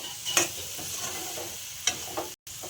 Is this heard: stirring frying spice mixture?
yes